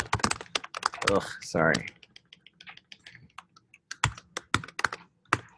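Keys clatter on a computer keyboard in bursts of quick taps, close and crisp, with a person briefly talking over the start before the typing continues in uneven runs.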